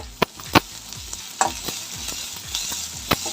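Onion, garlic and dried red chillies sauté in oil for a red-stalk greens stir-fry, with a soft steady sizzle broken by several sharp spoon scrapes and clanks against the pan, close and without talk.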